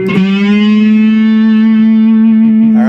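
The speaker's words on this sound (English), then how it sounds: "there's really got to be that gritty distortion going on this part" An electric guitar with gritty distortion holds one loud, sustained note from a song. The note rings rich and buzzing for about three seconds, with no talk over it.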